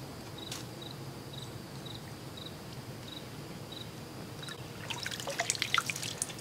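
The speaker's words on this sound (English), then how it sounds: "And I'm going to soak it in the water, or submerge it in the water." A covered canteen submerged in water fills up, giving small bubbling drips and trickles that become busier and louder toward the end, heard over an outdoor insect chirp.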